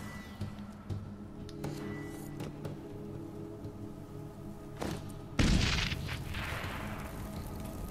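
A Dancing Star fire bomb goes off in The Witcher 3, a sudden loud burst and roaring whoosh that cuts in over a low game ambience and then decays into a sustained crackling rumble.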